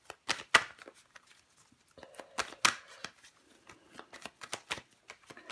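Tarot cards being shuffled by hand, a series of crisp riffling bursts and soft flicks at irregular intervals, close and fairly quiet, with no talking.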